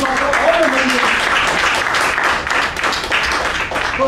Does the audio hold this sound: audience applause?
yes